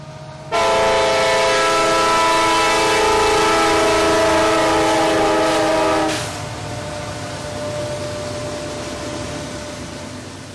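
Freight train Q652 sounds a long, loud horn blast as it enters the Plant City siding at the cemetery. A steady rumble of rolling cars continues after the horn stops.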